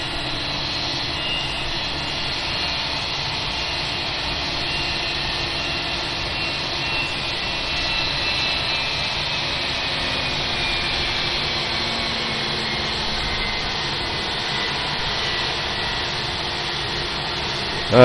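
Airbus A320 jet engines drone steadily during reverse thrust on landing at Glasgow Airport in a flight simulator game, a constant, even roar with a faint whine above it and no speech.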